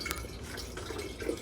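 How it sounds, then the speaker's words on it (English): Berry juice pours steadily into a glass wine jug, a continuous close liquid splash and trickle with small drips throughout. "pouring in a bunch of juice."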